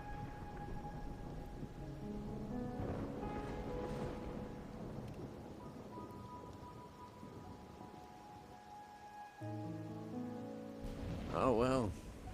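Rain and thunder on a rainy night in the video game Wuthering Waves, a steady wash with low rumbles and a rising siren-like tone, playing under a voice talking.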